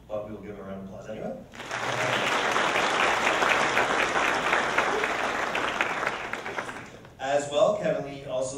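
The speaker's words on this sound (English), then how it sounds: "we will give him a round of applause anyway" Audience at an awards evening breaks into a sustained round of applause lasting several seconds, dense and fairly close, with a speaker talking before and after.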